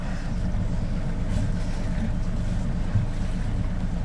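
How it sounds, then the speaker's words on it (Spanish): Headwind buffets a sailboat in a steady, low, close roar, with water washing around the hull and faint engine rumble underneath. "Ahora tenemos el viento de cara."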